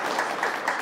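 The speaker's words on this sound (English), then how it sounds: "let's clap for that" A small audience at a community event applauds after a child's poem, a brief, soft burst of scattered clapping with no voices over it.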